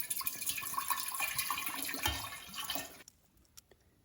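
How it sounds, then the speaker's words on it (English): Water sloshing and splashing inside a makgeolli brewing jar as it is rinsed out, a steady close wash of liquid for about three seconds that cuts off abruptly, followed by a few faint drips. "Use a little water to clean out the jar."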